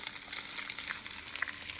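Breaded chain pickerel fillets fry in a pan, giving a steady, close crackling sizzle with bright spitting pops throughout and no talking.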